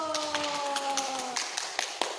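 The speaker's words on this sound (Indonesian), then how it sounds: "tepuk tangan buat Marcelo" Light scattered clapping for a child named Marcelo during an online Sunday school service, a few irregular claps near the microphone over a sustained tonal sound.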